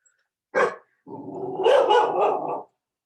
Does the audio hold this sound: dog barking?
yes